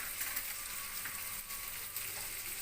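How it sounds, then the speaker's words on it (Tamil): Onion and tomato fry in a pan with a steady soft sizzle, close and even throughout, with no talk. "ஒரு தக்காளி கட் பண்ணி வச்சுருக்கிறது சேர்த்து நல்லா கிளறி விடுங்க"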